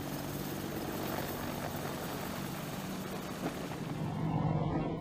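An AH-64 Apache helicopter drones steadily with a dense, continuous rotor and engine roar that holds level throughout, with no voices.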